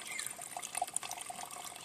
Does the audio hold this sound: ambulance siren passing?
no